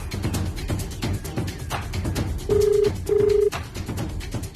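A phone dialing with short beeping tones, followed by two longer steady tones, close by and over a busy background of room noise and faint clatter.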